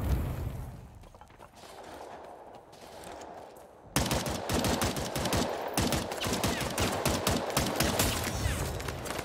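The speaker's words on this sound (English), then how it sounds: "I'm being shot from behind" Gunfire in the vampire game Bloodhunt, starting with scattered shots and then breaking into loud, rapid automatic bursts that continue close and nonstop.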